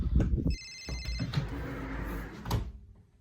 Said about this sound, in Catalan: Espera, que em truquen.